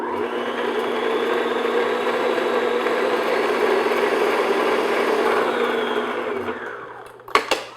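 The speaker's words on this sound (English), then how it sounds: "So I'm going to beat this now on medium-high speed, probably for a couple minutes." An electric hand mixer beats butter, sugar and vanilla at medium-high speed, giving a steady moderate whirring hum that holds for several seconds before stopping. A couple of light clicks follow.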